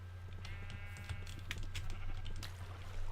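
Sheep in the Minecraft video game, on the iCraft SMP server, bleating several times in quick succession over a low steady hum, close and fairly clear.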